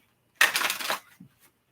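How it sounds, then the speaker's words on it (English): A short, close burst of riffled cards as a tarot deck is shuffled, about half a second of papery flutter followed by a soft tap, alone without talk. "Last shuffle."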